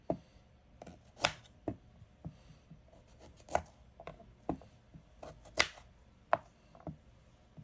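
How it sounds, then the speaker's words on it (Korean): A knife chopping sweet potatoes on a cutting board, sharp distinct thuds coming at irregular intervals, close and clear with no talking. "고구마는 1cm 정도 간격으로 잘라주세요."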